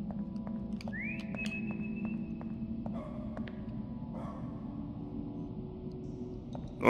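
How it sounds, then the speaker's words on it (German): A single whistle from the player character in the horror video game Lost in Vivo rises and holds a steady tone for about two seconds over a low ambient hum, with faint clinks and drones around it. "Oh oh, wir können pfeifen."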